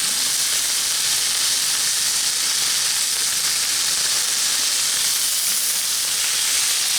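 Buttermilk pancakes sizzle steadily on a Blackstone griddle over medium heat, a dense, even hiss of frying batter that stays loud and close without pause and with no voices over it.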